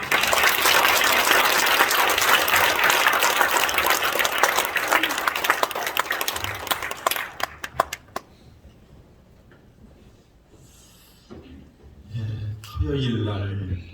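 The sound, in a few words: audience applauding to welcome the pastor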